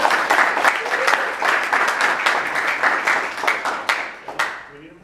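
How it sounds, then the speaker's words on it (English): An audience at a minority civic engagement talk gives a round of applause, dense clapping that stays steady for about five seconds, then thins to a few last claps as a voice starts. "please give a round of applause for him."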